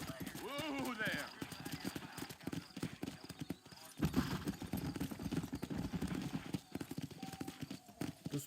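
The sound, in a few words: horse clip-clopping in Red Dead Redemption video game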